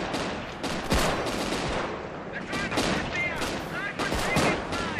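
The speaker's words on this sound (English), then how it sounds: "Air strafe commencing." Dense machine-gun fire from an air strafe in the World War II strategy game Company of Heroes rattles on continuously and loudly, with faint radio-style voices cutting in over the gunfire.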